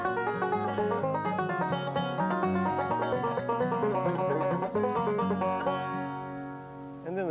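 A banjo played in melodic style runs a quick continuous stream of bright plucked notes, solo and close, holding steady before easing off at the end.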